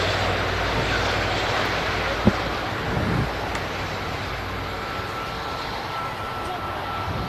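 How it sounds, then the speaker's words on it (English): A Virgin Atlantic Airbus A330 bound for New York JFK passes overhead at Manchester Airport as a steady, broad engine roar that holds level throughout, with no talk. "they're just crossing over is the Virgin Atlantic A330 to New York"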